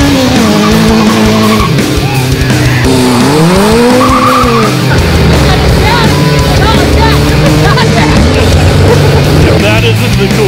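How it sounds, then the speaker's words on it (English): Old Craftsman lawn mower fitted with a Kawasaki KZ1000 motorcycle engine roars loudly and steadily, its pitch rising and falling as the throttle is worked, with voices talking over it. "it's a real old Craftsman with a Kawasaki KZ1000 in it"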